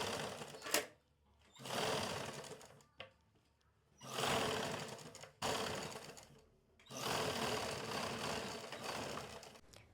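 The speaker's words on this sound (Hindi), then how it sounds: "इसके किनारे पे सिलाई लगानी होती है।" A sewing machine stitches along the edge of a princess-cut blouse, its motor whirring loudly in several long bursts separated by short pauses, with a couple of brief clicks between runs and no talking.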